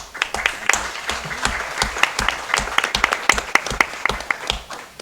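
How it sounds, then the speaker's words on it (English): People in the audience at a board of education meeting give a round of applause, a mix of distinct, sharp claps building into steady clapping at moderate distance. "A round of applause to you as well."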